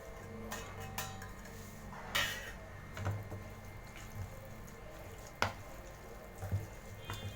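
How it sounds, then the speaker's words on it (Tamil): A spoon works curd rice and chopped coriander leaves together in a vessel at home, giving faint, scattered clinks and soft scrapes against metal over a quiet background, with no talking. "கொத்தமல்லி தழையை போட்டு நல்லா மிக்ஸ் பண்ணி விடுங்க"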